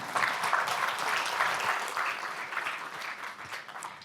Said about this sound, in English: So can we applaud those students?